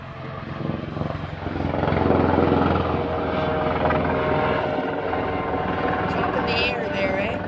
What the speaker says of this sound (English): He just had a siren on his helicopter.